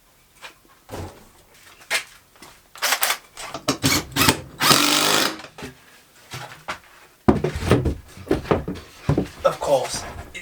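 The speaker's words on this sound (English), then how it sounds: "Where's the fucking drill?" A power drill running in bursts while a PC is built into a door, with short whirring runs and clatters of parts handled close by, mixed among a person talking.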